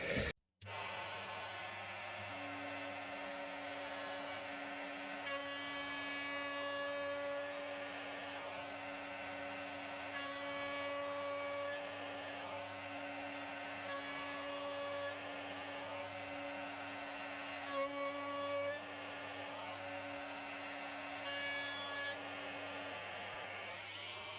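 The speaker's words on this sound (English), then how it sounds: "the noise of this is way quieter than all the other routers" A Festool OF1010 REBQ router cutting wood runs steadily for the whole stretch, a smooth sustained motor whine with a constant low tone and shifting upper harmonics as it moves along a guide, fairly quiet and without talk.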